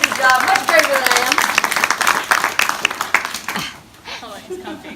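Audience applause for a volunteer at a snake show at a Florida Everglades alligator farm: a burst of clapping that fades after a few seconds, mixed with a speaking voice throughout.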